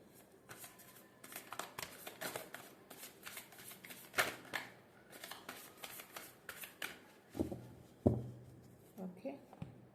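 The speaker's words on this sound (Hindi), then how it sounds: "मैं अगेन इसको शफल करती हूँ फ्रेंड्स।" A deck of tarot cards being shuffled by hand, steady rapid riffling and flicking close up for most of the stretch, ending in a few softer taps and rustles as the cards settle.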